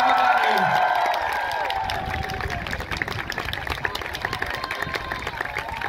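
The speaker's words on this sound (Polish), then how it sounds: "Gorące brawa dla niej." Spectators at a festival footrace cheer and clap for the women's winner, a busy crowd roar with scattered whoops that stays steady and fairly close, while an announcer's voice carries over it.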